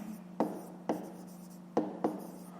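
Pen strokes on paper during a fifth-grade maths exercise, four distinct scratchy taps spaced unevenly over a steady low hum, close and fairly quiet, with no voices.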